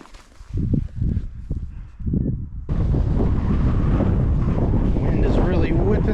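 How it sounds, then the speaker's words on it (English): Strong wind whips through a creek in Texas Hill Country, buffeting the microphone. A voice is heard briefly before a constant, heavy roar of wind takes over. "Wind is really whipping through here."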